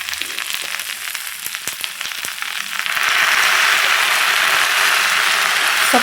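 Spinach greens frying in oil in a pan, scattered sharp crackles and clicks at first, then a loud steady hiss of sizzling oil takes over, close and continuous.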